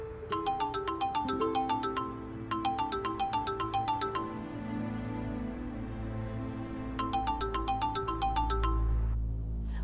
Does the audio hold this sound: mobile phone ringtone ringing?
yes